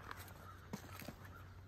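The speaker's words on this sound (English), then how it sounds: "listen to all these birds" A crow caws faintly at a distance beside a creek, with a couple of short calls over quiet outdoor ambience and soft rustling.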